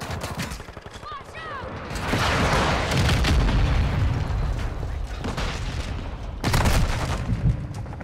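Assault rifle fire during a Call of Duty team deathmatch: steady loud automatic bursts over busy game noise, with a sharp louder volley near the end and someone talking along.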